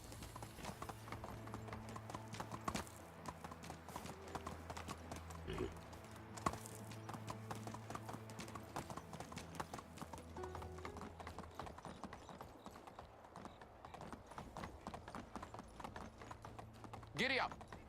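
Horse hooves clip-clopping in the medieval game Medieval Dynasty, a steady repeating gallop rhythm running the whole time, with someone talking faintly over it.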